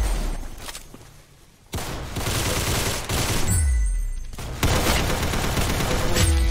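Loud, close gunfire in the Roblox game Arsenal: dense bursts of rapid shots broken by brief pauses, with sharp individual cracks and low booming thuds through the sequence.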